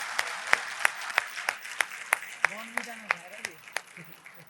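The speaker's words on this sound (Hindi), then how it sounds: "आपकी तालियां कमजोर हैं।" Steady clapping from a crowd, with sharp regular claps standing out over a softer wash of applause, while a voice speaks briefly underneath.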